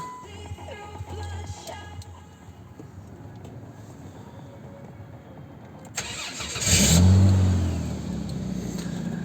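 After a quiet stretch of low hum, a 2003 Chrysler Concorde's 3.5-litre V6 cranks and fires up with a loud burst, then settles into a steady rumbling idle nearby.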